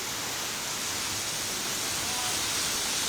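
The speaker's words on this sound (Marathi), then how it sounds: "मुसळधार पडणाऱ्या या पावसामुळे पाणी साचायला सुरुवात झाली आहे" Heavy monsoon rain pours steadily in Maharashtra, a dense even hiss without break across the whole moment.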